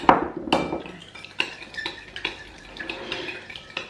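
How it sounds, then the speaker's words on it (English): Spoon stirring and mixing festive baking ingredients in a bowl, with repeated clinks and scrapes of utensil against the bowl, close and fairly loud, in an irregular rhythm. "you want to just give this a good mix, make sure it's all nice and mixed together"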